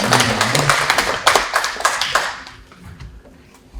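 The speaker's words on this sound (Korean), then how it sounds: "박수 한번." Clapping from an audience at a Korean academic conference on a historic beacon-fire site, loud, close and crisp for over two seconds, then thinning to scattered claps with murmuring voices underneath.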